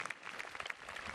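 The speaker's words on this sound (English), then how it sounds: "So let us clap and encourage the class." Soft, dense applause from an audience at a school thanksgiving assembly marking the end of the academic session. It is faint and steady throughout the brief moment.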